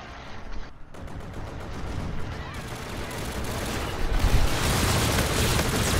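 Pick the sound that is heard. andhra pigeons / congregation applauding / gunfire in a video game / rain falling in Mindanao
gunfire in a video game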